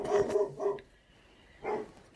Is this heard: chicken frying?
no